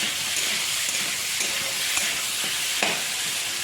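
Potato and pointed gourd curry with ginger, cumin and green chilli sautés in a pan, a loud continuous sizzle with faint scraping stirs now and then, no talking.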